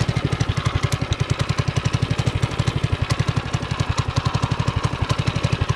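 A homemade mini bike's small engine runs alone and close, a steady fast chugging pulse with a rattling, buzzy edge that holds an even rhythm throughout.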